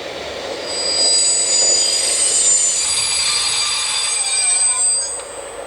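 SNCF X 4630 Caravelle diesel railcar in vermilion livery pulling into Bourg-en-Bresse station, with steady rolling noise and high squealing wheels building, holding, then easing off as it comes to a stop.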